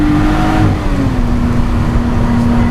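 A race car engine pulls hard at Oulton Park, a loud steady drone with a sustained engine tone that dips slightly in pitch midway, dense and close throughout.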